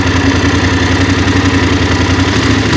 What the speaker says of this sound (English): I think there's a lot of chains whizzing around in this engine, so that does get emphasised